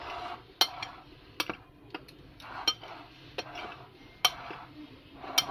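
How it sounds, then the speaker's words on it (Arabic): A utensil stirs dry chocolate cake ingredients, including dark Spanish cocoa, in a bowl, producing sharp intermittent clinks and taps against the sides with soft scraping between them, close and fairly quiet. "لازم نقلب المكونات الجافه مع بعض حلو علشان تدينا نتيجه برضو حلوه"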